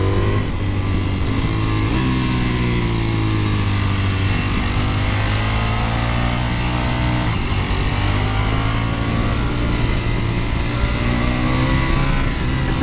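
A Ducati Panigale V4S superbike being ridden hard on the road, its engine note loud and continuous, rising and falling in pitch as the revs climb and ease off through gear changes, with no talk over it.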